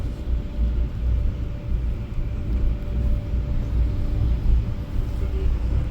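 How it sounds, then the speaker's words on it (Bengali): Steady low rumble and hum inside a moving tram in Russia, a continuous rolling drone with a faint tonal whine, close and fairly loud, with no voices audible. "তো আমি ঠিক এখন ট্রামে বসে আছি।"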